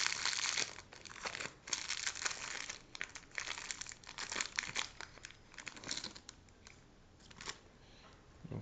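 Packaging for an MP4 player is unwrapped and opened, with dense crinkling and rustling of plastic and cardboard, brief tearing bursts and handling noises, close and fairly loud throughout, no talk.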